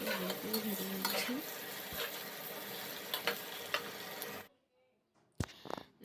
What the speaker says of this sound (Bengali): তো দেখেন, আমি এটাকে ভালো করে ভেজে নিচ্ছি।